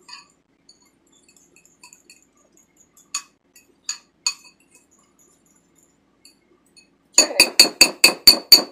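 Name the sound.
stirring flax seed mug bread batter in a mug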